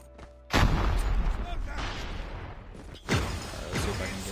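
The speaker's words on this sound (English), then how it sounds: "Grenade out." A grenade blast in the mobile shooter Call of Duty Mobile: a sudden loud boom that rumbles on for a couple of seconds, followed by a second heavy burst, with gunfire-like cracks in a battle setting.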